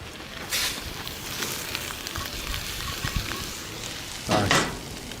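Sliced peppers and onions sauté in a hot pan with a steady, fairly quiet sizzle, broken by a couple of louder hissing bursts as they are tossed.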